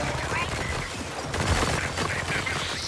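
A new gun fires in the VR shooter After the Fall, a quiet, scattered flurry of rapid shots and crackling bursts mixed with game noise and players' voices.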